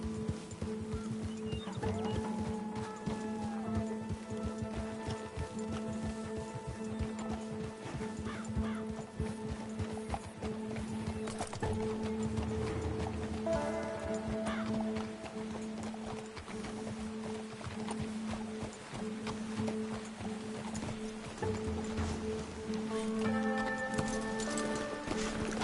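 Rhythmic clip-clop of galloping horse hooves runs steadily beneath a busy Red Dead Redemption 2 game soundscape with music tones and a horse whinny, continuing throughout.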